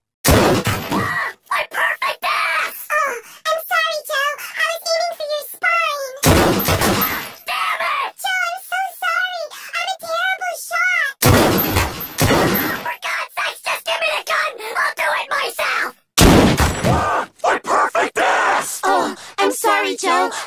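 Cartoon gunshots from Family Guy sound as four loud, sharp blasts spaced several seconds apart, with animated character dialogue running between them.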